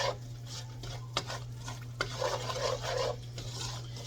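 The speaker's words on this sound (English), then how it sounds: "I'm turning this up just a hair, just to go ahead and get my flour started, get it to sizzling" Flour sizzling in a frying pan for gravy, a soft steady crackle with a utensil stirring and scraping against the pan, a few sharp taps, over a low hum.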